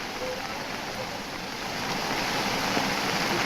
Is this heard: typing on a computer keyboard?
no